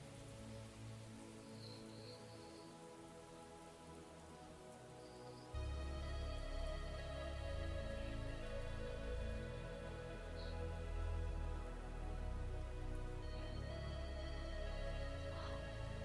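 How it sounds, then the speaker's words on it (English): Steady rain patter sits beneath a metal song intro, first quiet, then joined after a few seconds by a louder, fuller wash of low instrumental drone and sustained tones while the rain continues throughout. "sort of ambient rain noises in the background of a metal song"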